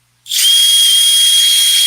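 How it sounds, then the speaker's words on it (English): An electric drill starts up abruptly and runs at a loud, steady high-pitched whine while drilling a hole, continuous and close with no pauses or voices. "I could just be a rebel, lift it up a little bit, and just drill it"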